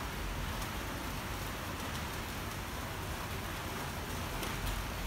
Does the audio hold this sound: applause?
no